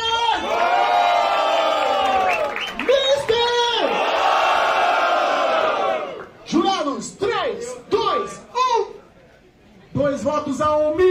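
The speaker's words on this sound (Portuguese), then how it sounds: "Agora é com vocês, votação! Barulho pra Alice!" Loud crowd at a Brazilian rap battle roars, cheers and shouts in sustained bursts to vote for an MC, dipping into short yells and a near-quiet gap before surging again.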